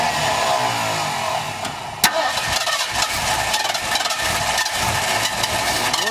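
A Ford Bronco engine runs rough on added gas, a steady mid-pitched mechanical drone after a sharp click, with faint voices and an unsteady running note.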